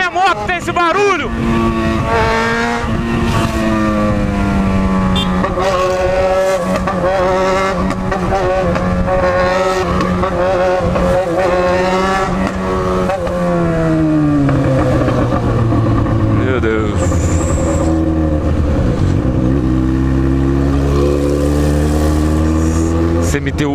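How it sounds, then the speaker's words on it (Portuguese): A loud Yamaha XJ6 motorcycle with a modified, welded exhaust idles and revs with a deep, rough note, pitch rising and falling steadily, close by for the whole stretch. "Só minha moto tem esse barulho."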